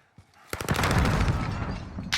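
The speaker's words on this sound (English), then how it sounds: "we hear a lot of gunfire going on over here" A quick burst of rapid gunfire rings out in a Call of Duty multiplayer match after a soft opening thud. The shots are loud and close and end in a sharp crack.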